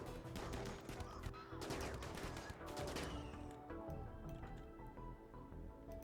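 Rapid bursts of gunfire in the colony-building game RimWorld, a dense crackle of shots through the first three seconds that thins into scattered, quieter pops alongside a steady game backdrop.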